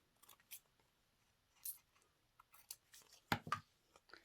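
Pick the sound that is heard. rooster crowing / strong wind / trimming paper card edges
trimming paper card edges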